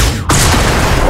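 A gunshot in the turn-based strategy game Xenonauts hits as a sudden loud blast that drops into a sustained, roaring wash of noise, close and dense.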